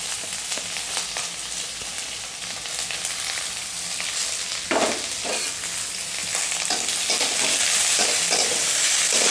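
Sliced onion, curry leaves and green chilies frying in hot oil in a pan, a steady loud sizzle with repeated scrapes of a stirring spoon, close and continuous with no talking.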